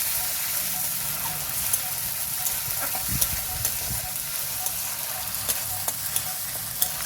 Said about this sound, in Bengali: ভালো করে নাড়াচাড়া করে কষিয়ে নেব।